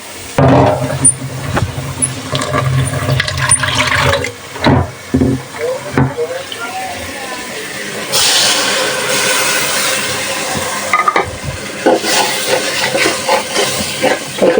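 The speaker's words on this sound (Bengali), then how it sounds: "এখন মশলাটা ভালোভাবে কষায় নিই" Masala of turmeric, chili, coriander powder, ginger paste, garlic paste and cumin paste frying in a pan, a loud hissing sizzle with bursts that flare and subside amid clattering stirring knocks.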